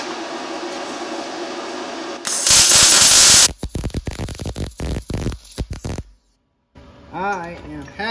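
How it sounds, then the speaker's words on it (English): A DIY vehicle hammock mount is welded, with a loud, harsh crackling burst followed by choppy sputtering pulses, close by, and a person speaking around it. "We're ready to weld this thing up."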